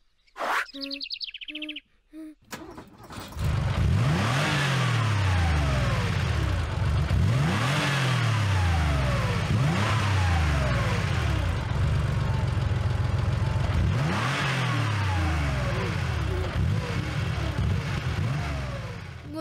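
A cartoon car engine in the animated series Nussa revs loudly in repeated rising and falling surges after a few brief opening sounds, continuous and steady for many seconds with no talking.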